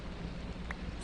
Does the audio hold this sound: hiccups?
no